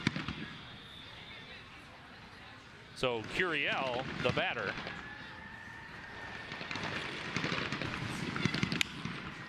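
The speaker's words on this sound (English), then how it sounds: "we've got fireworks going on somewhere nearby" Fireworks go off nearby during a baseball game between the Utica Unicorns and the Birmingham Bloomfield Beavers, with a cluster of popping, crackling bursts and a later bang while a commentator talks over the crowd ambience.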